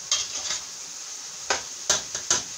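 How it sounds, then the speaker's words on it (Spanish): Pot of chicken and vegetable soup with root vegetables being stirred: a handful of soft, irregularly spaced scrapes and clinks against the pot over a quiet background. "vamos a ir revolviendo esto que tenemos aquí"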